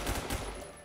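A P90 submachine gun fires rapid, close bursts in the Roblox shooter Phantom Forces, dense and loud before tapering off near the end.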